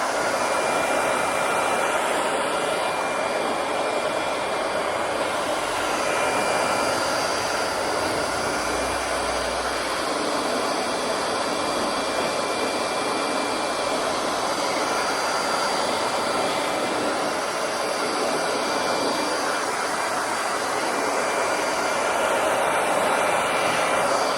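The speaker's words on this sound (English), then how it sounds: "just take a hair dryer afterwards. Go like this." A hair dryer blows continuously at close range over newly applied vehicle graphics, a loud, steady whooshing hiss with a motor whine that barely changes throughout.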